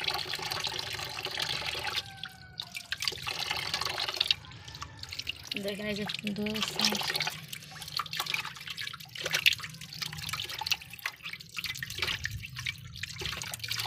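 Fish being rinsed under running tap water at a home sink, with a steady splashing stream and occasional drips beneath people talking nearby.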